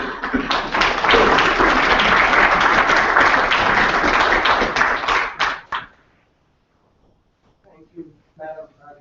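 An audience at an Ohio University Student Senate meeting claps steadily to welcome a speaker, dense close applause for several seconds that abruptly tapers off, after which a voice begins talking.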